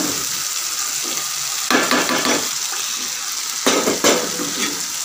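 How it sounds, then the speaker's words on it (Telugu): Chopped fenugreek leaves frying with green chillies in a pan, a steady loud sizzle with a few bursts of stirring and scraping. "ఇప్పుడు నేను పచ్చిమిర్చి సరిపోయేటట్టు వేసాను కాబట్టి ఇప్పుడు వచ్చేసి మెంతి కూర అనేది వేసేస్తున్నాను"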